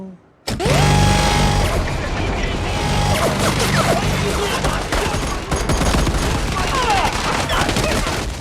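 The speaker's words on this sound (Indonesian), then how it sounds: "Booth menerbangkan helikopter dan menembak para petugas yang ada di gedung penjara" Rapid gunfire rattles from a helicopter shooting at officers at a prison building, a dense, loud, continuous barrage layered with rotor and engine roar and scattered crashing impacts.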